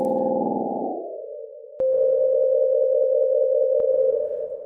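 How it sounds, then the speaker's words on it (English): A pure sine tone runs through a free Oril River reverb plugin with pitch modulation, first as a thick, chorused swell, then as a steady held tone with gentle wavering and two sharp clicks, heard alone. "You can hear it at work on a sine wave,"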